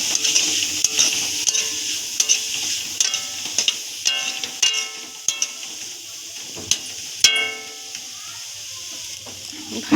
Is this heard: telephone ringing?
no